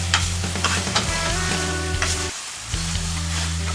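Lamb trotters are stirred with spices and mint, bay and curry leaves in a frying pan, a loud sizzle with repeated scraping strokes and a short pause before the frying resumes.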